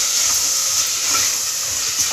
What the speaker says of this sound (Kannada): ಈಗ ಮೊಳಕೆ ಕಾಳು ಹಾಕತ್ತೀನಿ ಫ್ರೈ ಮಾಡೋದಕ್ಕೆ.